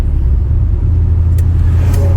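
A 1979 Corvette C3 engine rumbles steadily close by while driving, a low continuous drone with no voices.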